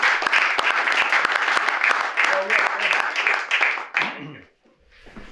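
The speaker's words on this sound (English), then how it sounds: "I think he deserves a round of applause for that." Audience applause at a historical society museum open house, dense clapping from a crowd for about four seconds, then fading out before a voice begins speaking.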